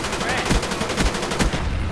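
Rapid gunfire in a first-person shooter team deathmatch, bursts of automatic shots cracking in quick succession with repeated loud peaks over about two seconds, no voice over it.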